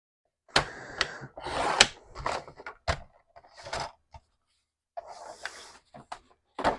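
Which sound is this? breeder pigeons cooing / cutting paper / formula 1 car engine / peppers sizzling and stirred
cutting paper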